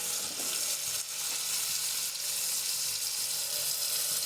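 Spices sizzle and fry steadily in a hot pan while ghugni is cooked, a continuous close, loud crackling hiss with occasional stirring scrapes and no talking.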